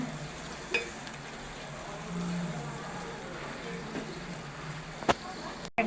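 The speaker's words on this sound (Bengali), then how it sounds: "এই টমেটোগুলো একটু শক্ত টমেটোগুলো, এই জন্য আমি এগুলো পেঁয়াজের সাথে ভেজে নিচ্ছি" Firm tomatoes fry with onions in a pan, giving a soft, steady sizzle that holds throughout, broken by a few faint clicks near the end.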